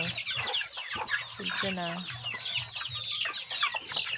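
Backyard hens cluck and squawk close by while one hen scuffles with another, with a sharp drawn-out squawk in the middle; a person speaks briefly over the flock.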